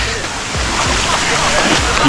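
Water splashes and sloshes loudly in a waterfall pool where people are bathing, a close, constant rush of broadband noise with a voice talking over it.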